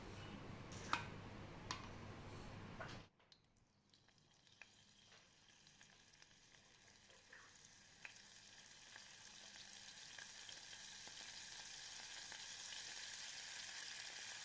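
Dried anchovies fry in hot cooking oil, a steady crackling sizzle that drops suddenly after a few seconds and then slowly builds again, with scattered pops and clicks and no talk.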